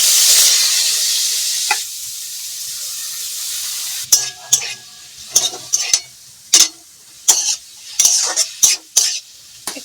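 Ridge gourd sizzles in a frying pan with a hiss of steam, then a spatula scrapes and stirs it in a quick run of close, clattering strokes against the metal pan.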